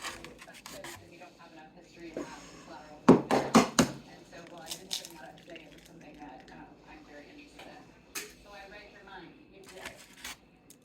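Knife chopping food on a board for homemade eggplant parmesan, a quick cluster of sharp cuts followed by scattered clinks of dishes and utensils in a quiet kitchen, with someone talking softly.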